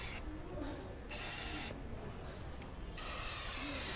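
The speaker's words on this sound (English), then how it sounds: "Spray generously." A can of 3M rodent repellent coating sprays generously inside a car, two broad hissing bursts separated by short pauses, close and steady with no voices.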